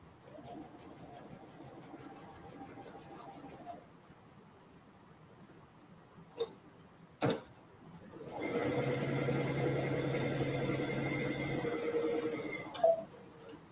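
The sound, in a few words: sewing machine stitching a 1/4 inch seam on boardshorts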